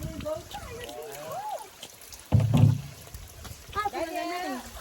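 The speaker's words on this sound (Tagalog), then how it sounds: "Oh, igib si Madi ng tubig." Fetched water splashes and pours from a container in a rural provincial setting, a gurgling burst in the middle, with people talking before and after.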